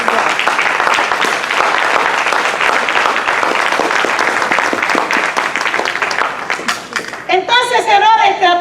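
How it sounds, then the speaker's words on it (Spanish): A church congregation claps loudly and steadily in praise, a dense wash of applause filling the room before it thins out near the end as voices and a speaker take over. "Dame un aplauso al Señor."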